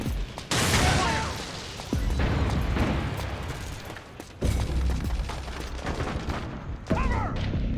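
Bursts of automatic gunfire and impacts rattle through a Metal Gear Solid 4 firefight on PS3, loud and continuous with sharp cracks and booms layered over a busy battle din.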